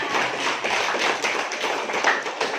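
A classroom audience applauds a student, a steady wash of many hands clapping close by for the whole stretch, with no voices over it.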